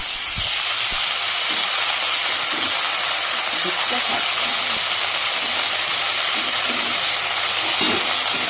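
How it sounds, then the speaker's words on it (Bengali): Onions frying in a pan for a Bengali dish give a steady, broad sizzle and hiss that runs the whole way through at moderate level, with faint clinks and stirring underneath. "তো লাল লাল করে ভেজে নিয়েছি এবার আমি পরিমাণ মতো লবণ দিয়ে দেবো"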